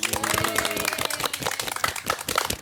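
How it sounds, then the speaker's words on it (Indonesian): A small group at a school podcast recording claps for the guests, with quick overlapping hand claps close by and faint background tones mixed in. "Tepuk tangan dulu."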